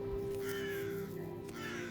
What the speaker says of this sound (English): The next one is crow.